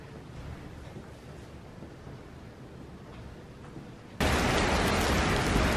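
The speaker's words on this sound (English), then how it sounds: "It definitely is hailing." Dense broadband patter of hail or heavy precipitation, moderate at first, then suddenly much louder and closer for the last second and a half.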